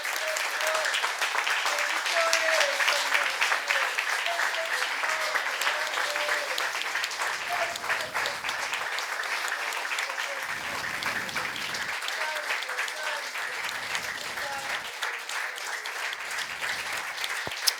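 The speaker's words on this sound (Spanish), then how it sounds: "Un aplauso al Señor." A church congregation at a Sunday evening service applauds steadily and warmly, continuous hand clapping throughout, with a voice speaking over it at times.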